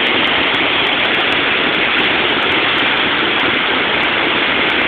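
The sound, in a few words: flood water rushing through Oahe Dam spillway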